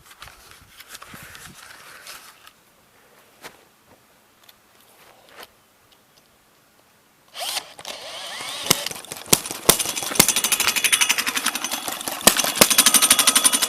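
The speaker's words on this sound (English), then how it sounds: "It's a good running engine." An old vertical hit and miss engine fires up after quiet moments of scattered clicks, then settles into a loud, steady run of sharp, regular mechanical firing beats close by.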